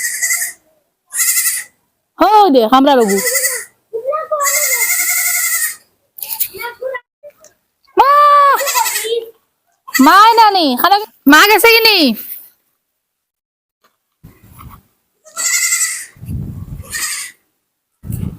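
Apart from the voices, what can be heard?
goats bleating, calling for their mother in the afternoon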